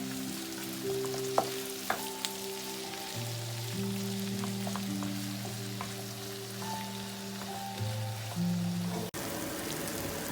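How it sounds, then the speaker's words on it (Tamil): Chillies frying in oil in a pan for chilli paneer give a steady, soft sizzle throughout, with a few light clicks of stirring and no talking. "போட்ட மிளகாயெல்லாம் நல்லா வதங்கி கொண்டு இருக்குது"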